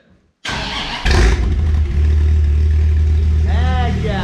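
Dodge Viper engine, a wrecked car bought at auction, bursts to life close by with a sharp rev that settles into a loud, steady rumbling idle, with a voice speaking over it briefly.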